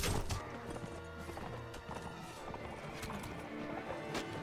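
Mount & Blade: Warband: rhythmic hooves clip-clopping at a quick gait, with a horse snorting or whinnying, over a continuous background bed; no talk.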